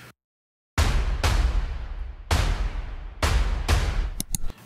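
Cinematic trailer drums from the Taste of Fury Kontakt library hit in heavy, booming impacts with long decaying tails, several spaced strikes after a brief silence and a quick flurry of sharp hits at the end.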